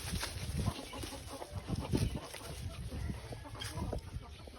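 Old farm chickens cluck in a loose, uneven series of low calls nearby, with scattered scratching and faint background bird noise throughout.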